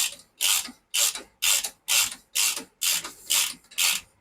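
A ratchet clicks loud and close in about nine even bursts, each stroke tightening down a bolt on a turbo installation.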